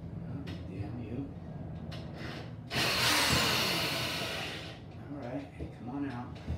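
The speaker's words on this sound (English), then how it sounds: "drill bit got stuck" A power drill runs with its bit stuck in the workpiece, a loud grinding burst of about two seconds that strains and fades, with someone talking before and after.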